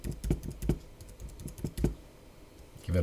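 Fingers typing a test card number on a computer keyboard, quick bursts of close, light key clicks with short pauses between groups.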